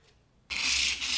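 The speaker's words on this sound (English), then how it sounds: "we're going to take some 400 grit sandpaper, and just with our finger" Quick rubbing of 400 grit sandpaper by finger on ukulele wood, a single short, close scratchy stroke starting after a brief pause.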